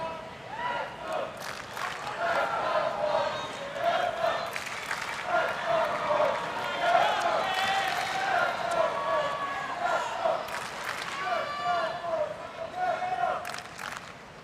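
A cheering section in Davidovich Fokina's box at a 2022 US Open tennis match, with shouts and clapping rising from a crowd behind commentators speaking.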